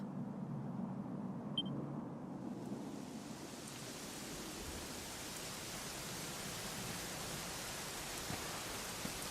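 Steady rain in Dragon Quest XI falls with a constant hiss that builds over the first couple of seconds, with a low rumble early on and no voices.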